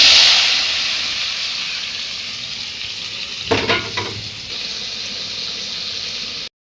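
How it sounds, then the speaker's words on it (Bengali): Potatoes frying in oil in a village kitchen give a steady broadband sizzle throughout, broken midway by a brief burst of louder crackling and stirring clatter, then settling back to an even hiss; no talking. "আলু ভাজা চলছে।"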